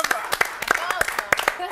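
A small audience gives a short burst of scattered clapping for the grill cook at a televised dinner show, sharp separate claps mixed with voices talking over them.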